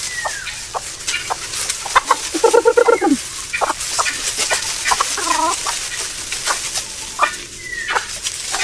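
Native chickens cluck and call in a short, busy burst on a farm near bamboo, several birds close by, with sharp repeated clucks and one drawn-out call among steady outdoor background noise.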